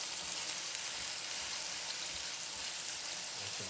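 Ground turkey frying in a pan, a dense, steady sizzle and crackle like light rain, close and continuous without talk.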